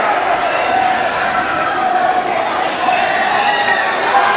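A wrestling show crowd in Sanford, Florida roars and cheers continuously, a dense loud wash of shouting voices from a large audience, sustained throughout without a break.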